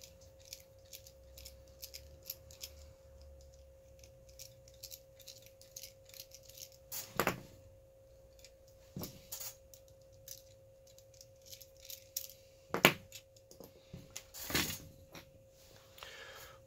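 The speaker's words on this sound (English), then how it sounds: "Take those two screws back out." Screws come out of a spring-powered toy blaster, giving scattered small clicks, ticks and a few sharper plastic snaps close by against a faint steady hum, with no talking.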